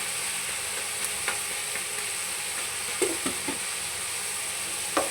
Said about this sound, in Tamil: நல்ல வெங்காயத்தை வதங்கிக்கிட்டு இருக்கோம் இப்போது வெங்காயம் கொஞ்சம் இதுவாகிடுச்சு பச்சை மிளகாய் போட்டுக்கிறோம்